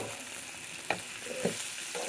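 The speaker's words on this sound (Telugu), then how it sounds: "పోపు చేసిన ఉల్లిగడ్డలు, పచ్చిమిర్చి, పోపు గింజలు, కరివేపాకు" Onions, green chillies, spice seeds and curry leaves frying in a tempering, a faint steady sizzle with a few soft stirring knocks, quiet and close.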